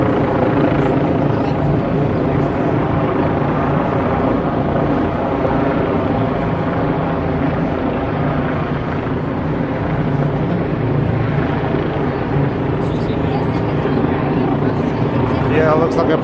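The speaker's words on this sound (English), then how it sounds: "Yeah, looks like a police helicopter." A low-flying police helicopter drones steadily overhead above a New York City street near Washington Square Park, its dense rotor throb continuous and loud throughout, with voices talking beneath it.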